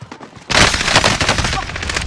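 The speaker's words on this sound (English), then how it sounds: "Those bastards are shooting at me!" Gunfire in a shooter video game bursts in loud and close after a brief quiet moment, a dense automatic fusillade rattling on without pause to the end.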